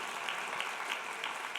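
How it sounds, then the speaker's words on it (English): Brief, faint applause from the audience at a winter meeting session on housing, a soft steady patter of many hands heard from a distance. "A round of applause."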